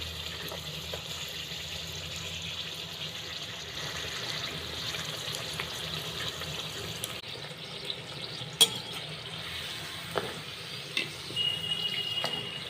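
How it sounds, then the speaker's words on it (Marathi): A spicy puri deep-fries in hot oil with a soft, steady bubbling sizzle close by, marked near the end by a few sharp ticks and clinks from a utensil, and no one speaking. "दुसऱ्या साईडनं पण तळून घेऊया."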